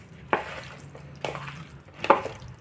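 Prawns being stirred into dry fry masala in a pan, with three separate scraping strokes of a spoon against the pan over a faint low hum.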